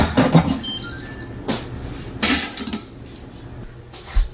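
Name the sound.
Instant Pot lid being removed and set aside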